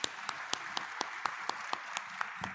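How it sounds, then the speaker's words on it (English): An audience at a finance fund launch event applauds a panel with steady, evenly spaced claps over a soft wash of distant applause, fairly faint and without talk. "please give the panel a very warm round of applause"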